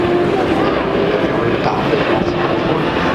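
An Airbus A380 jet roars steadily past at close range during a flying display at the Paris Air Show, a continuous broadband engine rush with a faint tonal whine, no talking.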